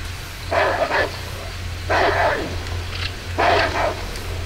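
A dog barks and attacks in the survival video game H1Z1 while the player is on top of a truck, giving three separate loud bark bursts at even intervals over a low background hum.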